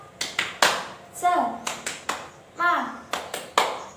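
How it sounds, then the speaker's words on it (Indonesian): A group of second-grade children in a classroom claps a quick rhythmic pattern, sharp hand claps alternating with short chanted shouts in unison. "Sebelum mengerjakan, Bu Guru mau mengetes. Tepuk semangat."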